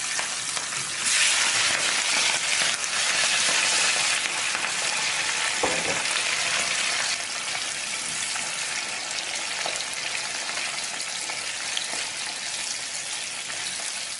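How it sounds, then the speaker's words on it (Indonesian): Oil sizzles and crackles steadily as shrimp fry in a wok, a loud continuous hiss with a brief clatter partway through. "kita siapkan wajan dan minyak untuk menggoreng udangnya"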